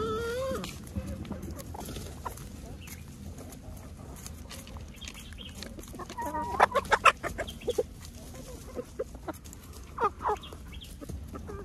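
Rooster and hens peck and cluck while eating an apple, with steady close clucking and soft pecking throughout and a louder burst of sharp pecks and clucks in the middle.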